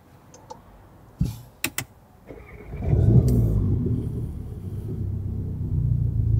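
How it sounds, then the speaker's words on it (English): A few sharp clicks, then a Volkswagen Golf Mk7 engine starts and settles into a steady low idle rumble that carries on to the end. "Turn the car on."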